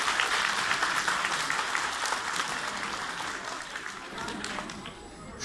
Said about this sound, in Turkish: Onlara da bir alkış, bence daha çok alkış hak ediyorlar arkadaşlar.